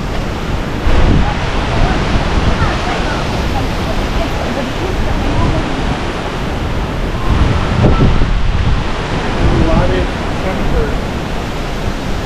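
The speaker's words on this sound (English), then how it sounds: "Some waves." Ocean waves break at Miami Beach, a broad roaring wash of surf with a couple of louder swells, mixed with wind buffeting the microphone, continuous and close throughout.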